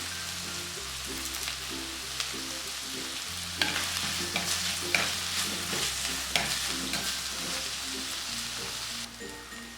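Fresh curry leaves sautéing in oil for a Kerala fish curry, a bright continuous crackling sizzle with occasional stirring scrapes, over background music.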